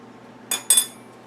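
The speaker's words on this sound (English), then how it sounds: "You can even take a fork and press them" A metal fork clinks twice against a plate while pressing sandwich edges together, two short bright taps close together in an otherwise quiet room.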